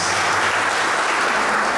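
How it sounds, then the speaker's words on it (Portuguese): A church congregation at a Sunday worship service applauds with dense, sustained clapping, loud and close, filling the whole moment without any talk. "Quem pode dar uma salva de palmas para o Rei de Deus?"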